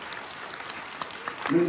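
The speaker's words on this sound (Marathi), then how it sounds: "आज आजीसाठी हात वरती करून दोरा टाळ्या वाजवा" An audience clapping at a village home game-show event, a scattered burst of claps close by that swells toward the end, with a voice speaking over it.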